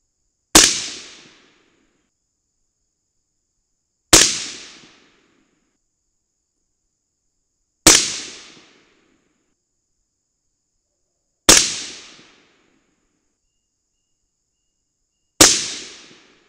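Five rifle shots firing Bob's 55-grain FMJBT bullets over a 27-grain Varget powder load, each a sharp, loud crack with a short decaying echo, spaced about four seconds apart in otherwise silent surroundings.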